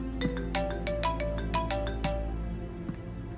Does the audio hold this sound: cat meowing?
no